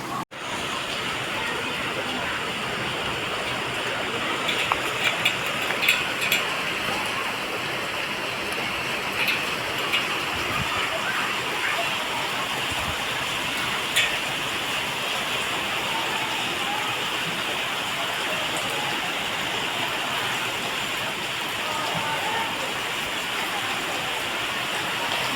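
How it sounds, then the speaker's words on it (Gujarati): Steady afternoon rain pours down in a constant, even hiss that holds for the whole stretch, with a few faint knocks and a distant voice now and then underneath. "જો અત્યારે વરસાદ આવે છે"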